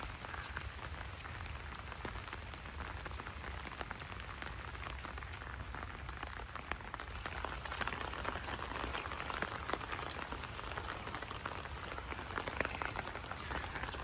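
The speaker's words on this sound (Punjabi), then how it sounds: "ਚਲੋ ਮੀਂਹ ਜਿਹੜਾ ਪਈ ਜਾਵੇ" Rain falls steadily over Punjab farmland in a dense, even hiss of countless drops, soft and continuous, with no voices over it.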